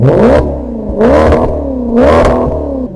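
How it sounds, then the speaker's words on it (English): A classic Maserati's Ferrari engine revs three times in quick succession, each blip rising sharply then dropping back to a rumbling idle, loud and close. "the classic Maserati, which by the way has a Ferrari engine and sounds incredible"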